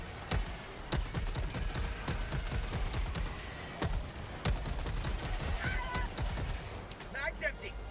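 Video game gunfire empties a magazine in rapid sharp bursts of shots, loud and close, with brief gaps, while people talk over it.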